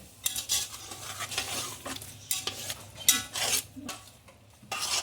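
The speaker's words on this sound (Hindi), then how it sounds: "अदरक लहसुन का पेस्ट डाल के अच्छे से इसको भून लें" Ginger garlic paste fries in a pan while a metal spoon scrapes and stirs it, giving bursts of sizzle and clinking strokes at an uneven rhythm, close and without talk.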